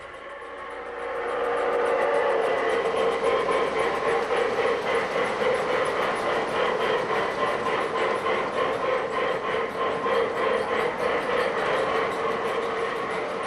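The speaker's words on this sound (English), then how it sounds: "Here's our Rail King Union Pacific Big Boy with 40 cars behind the drawbar." An M.T.H. Rail King Union Pacific Big Boy 4884 model locomotive with a can motor pulls a long train of 40 cars, producing a loud, steady electric whir with rapid rhythmic chuffing that rises after a softer start.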